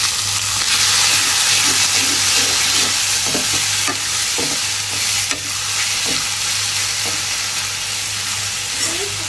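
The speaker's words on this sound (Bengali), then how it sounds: "এখানে হলো রসুন, পেঁয়াজ, শুকনো মরিচ ভাজা নিচ্ছি" Garlic, onion and dried chili fry in a pan, a loud, continuous close sizzle and hiss with intermittent stirring scrapes and clinks and a low steady hum, with no clear speech.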